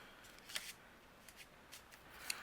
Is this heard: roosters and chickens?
no